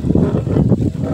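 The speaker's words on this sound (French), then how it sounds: "Là, il y a un petit peu de vent." Light wind gusts across an outdoor garden where lawn grass seed is being sown, a low buffeting rumble that stays steady for about a second.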